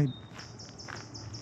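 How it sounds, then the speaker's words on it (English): Faint, repeated high chirps from a bird sound over quiet outdoor ambience in Campbell Valley Regional Park, a short run of regularly spaced calls. "just listen to the birds"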